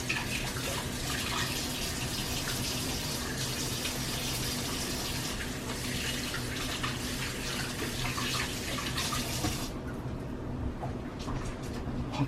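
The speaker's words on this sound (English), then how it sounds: "Let me wash my hands." Hands being washed under a running kitchen tap during meal prep, a steady loud rush of water with splashing for about ten seconds before the flow eases off, close by and with no talking.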